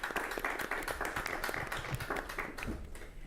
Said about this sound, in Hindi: एक बार जोरदार तालियां हो जाएं हमारे सभी किसानों, हमारे विशेषज्ञों के लिए।